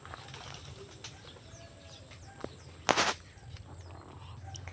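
A pigeon bursts into flight with a brief, loud flurry of flapping wings, set against quiet outdoor ambience with faint scattered rustles and thin bird calls.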